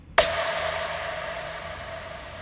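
Dither noise added when audio is downsampled to 16 bit: a sudden onset, then a steady broadband hiss with a faint sustained tone inside it, slowly fading over a couple of seconds with no voices.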